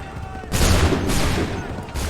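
A musket volley erupts in Assassin's Creed III, a single loud, dense burst of massed gunfire that rolls on for over a second before fading.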